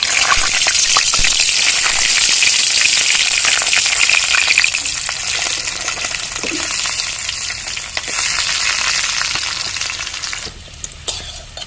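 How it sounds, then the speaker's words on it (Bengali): Potatoes fry lightly in hot oil, giving a loud, steady close-up sizzle that crackles continuously and eases slightly near the end. "এবার আমি আলুটা হালকা ভেজে নেবো"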